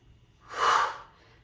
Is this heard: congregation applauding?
no